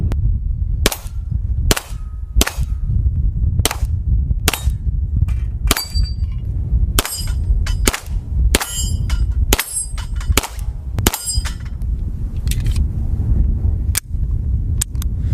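A Beretta M9A3 9mm pistol fires a string of about a dozen loud, sharp shots at close range, each cracking and followed by a bright metallic ring from steel targets.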